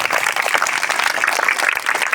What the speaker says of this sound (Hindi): स्वागत करेंगे उनका ताली बजाकर।